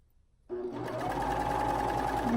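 A sewing machine pushes through a thick shoulder seam with elastic. After a quiet moment it starts with a sudden whir, then keeps up a steady, close mechanical hum and rapid needle rattle.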